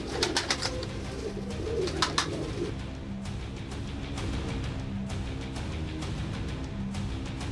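Pigeons coo repeatedly in low, soft murmurs against steady outdoor background noise, with a few sharper bird calls near the start and no talking.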